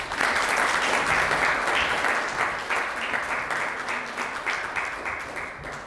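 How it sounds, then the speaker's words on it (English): Sustained audience applause at an award presentation ceremony welcoming a maestro, dense steady clapping from a large crowd, loud throughout and slowly thinning toward the end. "Let us welcome Maestro Marturet with a round of applause"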